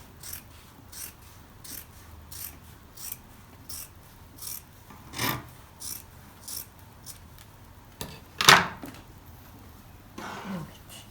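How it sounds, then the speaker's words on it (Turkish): Scissors cut the fabric body piece of a bolero in a series of short rasping snips, with a louder sharp slice near the end, quiet and close over a soft room background. "Şimdi beden kısmını kesiyorum."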